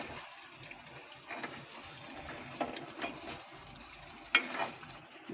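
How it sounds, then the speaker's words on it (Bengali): Prawns and fried potato being stirred through sizzling masala in a pan, giving a soft, steady frying hiss with scattered scraping clicks and a louder scrape near the end, fairly quiet and close. "এবার এটাকে খুব করে নাড়তে হবে।"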